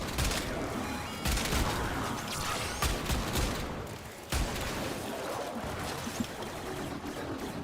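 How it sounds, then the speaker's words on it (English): Orbital cannon fire in a Warframe-style shooter game, a dense roaring barrage of blasts and crackling impacts that stays loud throughout, with a sharp break and a fresh burst midway. "He has the fucking orbital cannon"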